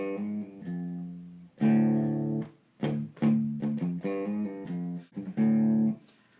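Electric guitar phrase from a song's solo, with quick hammer-on and pull-off notes to G between short picked bursts and gaps, played alone at moderate volume.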